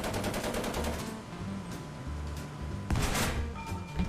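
Rapid gunfire from armoured vehicles in a War Thunder tank battle with a Char B1 ter, loud and continuous, with a heavier burst near the end.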